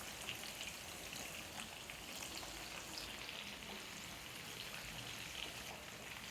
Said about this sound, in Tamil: நான் இது கூடவே கொஞ்சமாக கேஷ்யூநட், கொஞ்சமாக கட் பண்ணி வச்சுருக்க வெங்காயம், பெல் பெப்பர், சிவப்பு குடை மிளகா இது எல்லாமே சேர்த்து ஃப்ரை பண்ண போகிறேன்